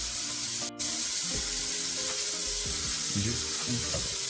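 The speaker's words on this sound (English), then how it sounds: "we're going to flip the steak one more time, get back to the other side, and we're going to let this cook for about 70 seconds" A steak sizzles steadily in a hot pan with a loud, continuous frying hiss. Scraping and shifting sounds from the pan run under the hiss.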